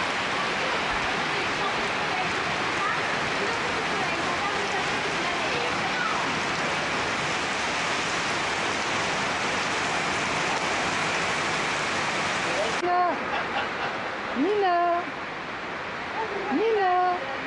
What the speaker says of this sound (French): Pluie tropicale.